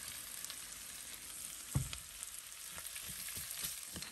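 Cabbage and green onions with bacon sizzle in a pan while being stirred, a low steady fry broken by a few scraping clatters of the utensil, quiet and close, no talking.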